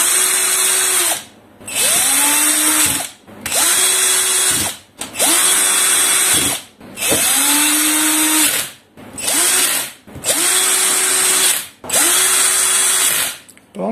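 A power drill drives eight screws into the base of a moving head stage light, repeated whirring bursts of a couple of seconds each with short pauses between, close and loud.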